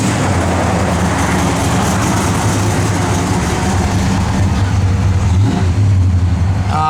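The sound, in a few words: 1970 Plymouth Duster 340 V8 engine revving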